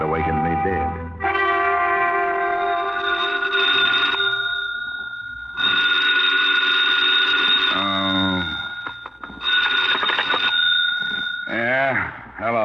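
Old-style telephone ringing in a radio drama, a loud, near bell in repeated long rings separated by short pauses, with a voice speaking between and after the rings.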